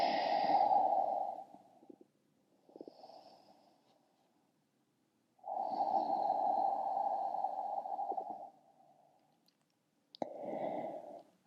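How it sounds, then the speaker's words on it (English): Slow, deep breaths drawn and released through the nose during a beginner yoga stretch, several long airy inhales and exhales separated by quiet pauses, close and fairly loud. "Breathing deeply through the nose."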